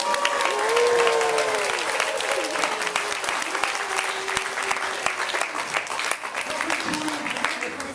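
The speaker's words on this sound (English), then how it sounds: "guys can clap again." A crowd claps at a Christmas program, a dense, sustained round of applause heard close up, with voices and children's chatter mixed in throughout.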